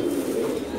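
A racing pigeon in a breeding loft gives a low, continuous throaty coo, close and clear, with no talk over it.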